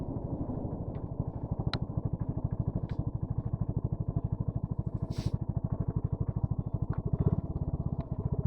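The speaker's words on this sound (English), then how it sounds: "we're out enjoying the Boxing Day motorcycle ride." A motorcycle on a Boxing Day ride rumbles steadily with a fast, even engine throb, close and continuous, with faint clicks and light clatter over it.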